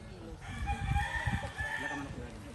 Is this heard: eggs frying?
no